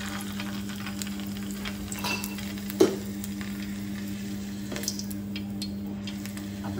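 Oil heating in a pan for onion bhaji, a steady soft sizzle with a constant low hum and a few faint clicks, close and fairly quiet.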